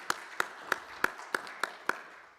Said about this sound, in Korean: 네, 감사의 박수를 한번 해주시겠습니다.